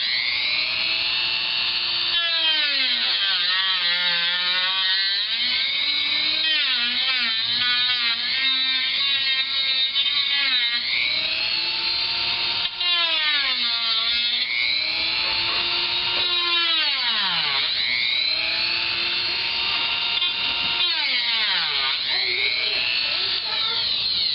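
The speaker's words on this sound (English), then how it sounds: "That's the Dremel tool." Dremel rotary tool cutting the plastic casing of an HP G62 laptop, a loud high-pitched whine that rises and sags in pitch as the bit bites and eases, running steadily throughout.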